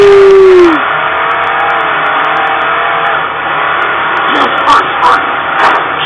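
A vehicle engine drones steadily while driving in the Halo video game, after an opening tonal sweep, with a continuous mid-level roar and a few sharp clanks and bumps toward the end.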